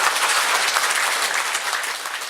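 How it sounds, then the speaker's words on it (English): An audience at a 2007 conference in Wolverhampton applauds steadily, a dense, even wash of clapping that holds at the same level throughout with no voices over it. "can I ask for a round of applause and appreciation"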